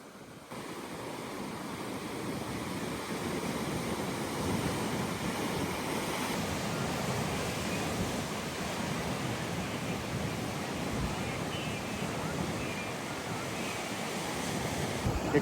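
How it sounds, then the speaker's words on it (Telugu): Ocean surf at Kovalam Lighthouse Beach in Kerala, a steady broadband roar of waves with wind buffeting the microphone, continuous and full throughout. "అదిగో కోవలం లైట్ హౌస్ బీచ్."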